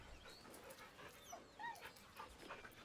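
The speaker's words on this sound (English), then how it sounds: "With a deep, heartbroken whine, the dog bows his head." Scratch the dog in Baldur's Gate 3 whining softly, several faint high, rising and falling whimpers over a quiet game background, with no speech.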